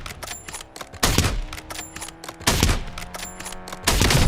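Sniper rifle gunfire in a solo sniping video game, with three loud, sharp shots spaced over about four seconds, each leaving a ringing tail over a busy background of game noise.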